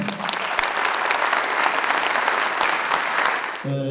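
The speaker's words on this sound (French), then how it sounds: "Donc quelques applaudissements au salut." Audience applause at a magic show, a dense, loud burst of clapping that stays even for several seconds and then cuts off as a voice begins.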